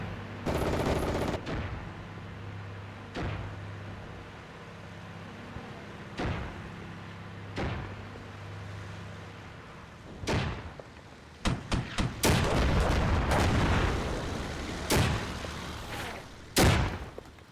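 Separate gunshots and short bursts of fire ring out in the Armored Brigade 2 war game, sharp cracks spaced apart early and then clustering into denser volleys, with no voices.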